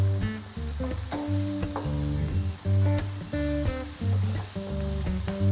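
Onions and green chili frying over a high flame in a pan for a water spinach stir fry, a steady close sizzle running throughout with music playing over it.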